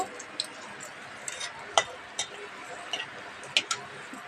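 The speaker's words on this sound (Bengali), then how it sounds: "জিরে ফোড়ন শুকনো লঙ্কা আর গোটা জিরে দিয়েছি ভালো করে ভেজে নেব" Dried red chillies and whole cumin seeds tempering in hot oil for khichuri, a soft continuous hiss dotted with sharp little pops and crackles.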